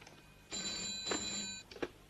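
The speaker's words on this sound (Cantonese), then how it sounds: "呢度都聽到電話聲啦" A telephone bell rings as a short, bright trilling burst lasting about a second, followed by a briefer second ring, fairly close and clear against a quiet background.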